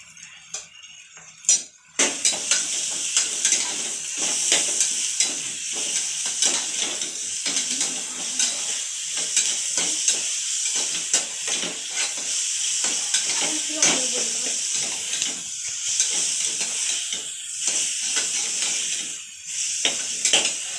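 Ginger and garlic frying in a pan for chicken curry: a steady loud sizzle and hiss starts abruptly and continues, with scattered pops and scraping stirs, close up.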